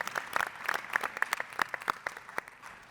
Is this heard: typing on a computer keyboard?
no